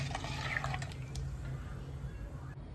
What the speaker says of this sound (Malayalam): നമുക്കിതൊന്ന് ചെറിയൊരു പാത്രത്തിലേക്കൊന്ന് അരിച്ചെടുക്കാം